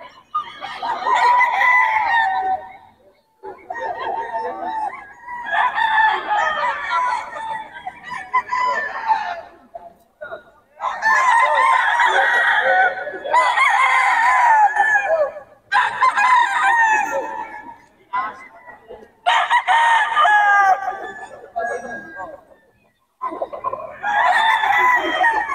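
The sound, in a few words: roosters crowing and chickens clucking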